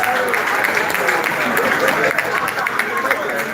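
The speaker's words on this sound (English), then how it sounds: "A round of applause for yourself." A conference crowd at a trading expo claps steadily, a thick continuous wash of applause mixed with crowd murmur and cheering voices throughout.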